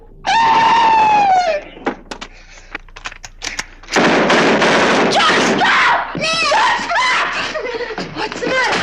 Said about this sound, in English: I heard a scream. Someone was screaming.